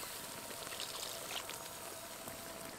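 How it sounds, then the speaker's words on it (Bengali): Water poured into a pan of chicken simmering in spiced gravy, a steady continuous splashing pour heard close and alone, without talk. "এখন এর মধ্যে জল দিয়ে দেবো"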